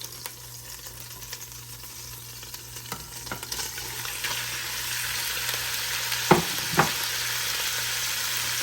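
Cubed pork butt sears in a hot pan with a steady, loud sizzle and crackle, plus a few scraping stirs and clinks as the pieces are spread out.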